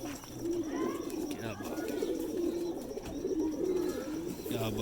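Flying pigeons coo steadily in a low, throaty rhythm, several birds close by, with faint rustling and shuffling underneath.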